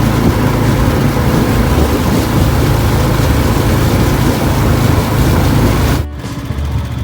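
Boat engine drones loudly and continuously on Lam Takhong reservoir during a fishing trip, a steady close roar that cuts out abruptly near the end, leaving quieter background.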